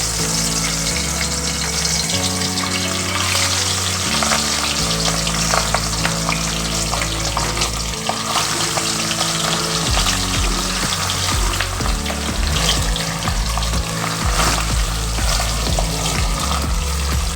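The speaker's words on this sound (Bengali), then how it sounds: "কড়াইতে তেল দিয়েছি তেলটা গরমও হয়ে গেছে নুন হলুদ মাখিয়ে রাখা ট্যাংরা মাছগুলো আমি আস্তে আস্তে ছেড়ে দেবো" Tengra fish, rubbed with salt and turmeric, fry in hot oil in a wok, giving a loud, sustained crackling sizzle that swells and bubbles throughout without any talking.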